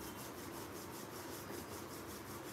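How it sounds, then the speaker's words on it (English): Palms rubbing together steadily during a guided eye-relaxation yoga session, a continuous soft swishing friction with a regular back-and-forth rhythm, close and alone without talk. "Slowly and gently rub your palms. Generate heat in your palms."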